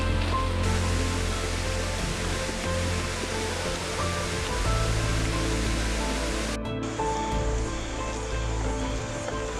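A waterfall roars loud and constant at close range, a dense wash of rushing water with no pauses.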